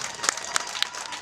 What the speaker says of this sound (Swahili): Wapigeni makofi mazuri.